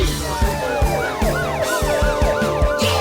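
A police car siren wails loud and close, its rising and falling tone repeating rapidly over a rhythmic pulsing beat, likely part of a children's song.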